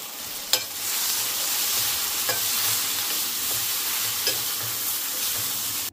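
Eggplant frying in a pan with turmeric, salt and neem leaves, a loud, steady close sizzle with a few sharp spits and stirring clinks over the hiss.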